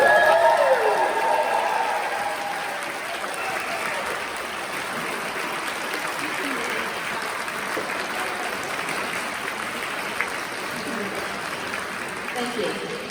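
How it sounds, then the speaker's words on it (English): Doctoral graduates at a commencement ceremony standing to applaud and cheer for their supporters, loud sustained clapping and crowd noise that peaks at the start and then settles into a steady wash. "I'm going to invite you to all stand and do a rousing cheer for the folks that supported you through this these last several years"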